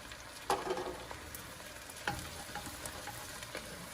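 Mushrooms, about one and a half pounds in a soup pot, are stirred under a soft, continuous low sizzle, with two distinct scraping strokes of a utensil against the pot, quiet and close.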